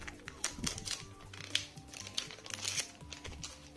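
Protective film crinkles and crackles as it is peeled off a budget 58-inch LG TV and its Magic Remote, faint irregular ticks and rustles close up with no voice.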